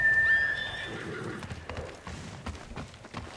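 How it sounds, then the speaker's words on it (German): A horse in the Ghost of Tsushima video game gives a sharp whinny at the start, then its hooves clip-clop steadily at a walk under a low game ambience. "Das ist ein braves Pferd"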